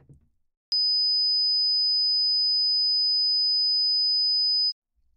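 A pure 5,000 hertz sine test tone holds steady and even for about four seconds, with a clean start and stop and silence on either side.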